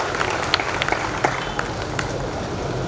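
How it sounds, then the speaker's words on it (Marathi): Applause for Kapil at a memorial award ceremony, a crowd clapping steadily with scattered sharp individual claps over a continuous wash of hand noise. "एका जोरदार टाळ्या कपिल भैयासाठी"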